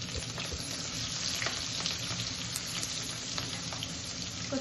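Onion fries in hot oil in a home kitchen pan, a soft, steady sizzle with scattered light crackles and faint stirring taps, heard alone at a low level.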